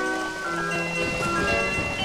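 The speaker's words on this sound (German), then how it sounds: "Es regnet in die Mühle rein." Steady rain falls into the windmill in The Legend of Zelda: Ocarina of Time, a dense continuous patter mixed with droning tonal game music, loud and even throughout without any talking.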